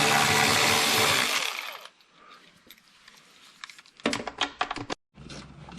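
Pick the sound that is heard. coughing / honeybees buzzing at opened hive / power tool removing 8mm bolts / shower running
power tool removing 8mm bolts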